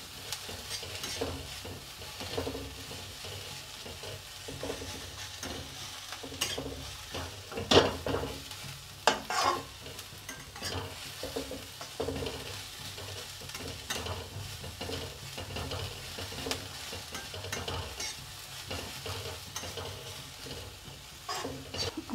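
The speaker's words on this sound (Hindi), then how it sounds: "सब्जियों को हमें कच्चा कच्चा ही रखना है, थोड़ी देर ही इनको पकाना है।" Mixed vegetables for spring roll filling stir-fry briefly in a pan. A soft, continuous sizzle is broken by repeated scraping stirs and occasional utensil knocks against the pan, close and fairly quiet.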